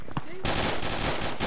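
In a multiplayer shooter game on Mangomak Island, a loud, close burst of rapid gunfire erupts after a brief quiet moment and keeps rattling steadily to the end.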